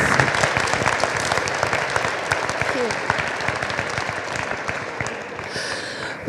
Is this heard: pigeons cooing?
no